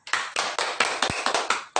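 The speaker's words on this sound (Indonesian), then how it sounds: "Kita beri tepuk tangan buat semuanya." An audience at an online P2K2 session claps hands in a few quick, sharp bursts, close and fairly loud, with no voices over them.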